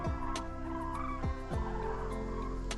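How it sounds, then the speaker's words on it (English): Geese migrating south give several loud, honking, gobble-like calls outdoors, each a short downward-sliding cry in an irregular series, with no voices. "Oh, there's this goose."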